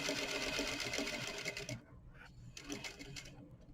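Close, steady rattling of a sewing machine top stitching fabric on a number 3 stitch for a fly front, running continuously then pausing briefly before a shorter second burst.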